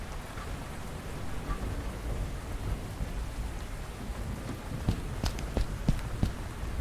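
Thunderstorm over Paris in the Cthulhu adventure game Gibbous: steady heavy rain hiss with low thunder rumble, and sharper drips and crackles toward the end, with no voices.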